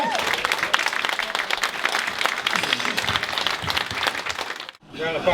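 A crowd at a Remembrance Day event at Charlton FC in November 2016 applauds to welcome a guest, brisk dense clapping that runs steadily before cutting off and giving way to someone speaking.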